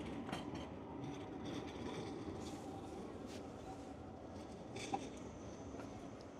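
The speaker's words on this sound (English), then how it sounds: "So yeah, we've got a tram coming." A tram rumbles past at a steady, moderate level with faint wheel clatter and street noise, and a brief sharp click near the end.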